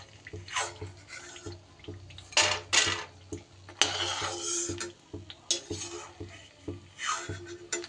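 Fried lentil dumplings (bori) are lifted from a pan of spinach-recipe oil, producing bursts of sizzling and scraping plus metal utensil clinks against the cookware, coming in irregular clusters at close range.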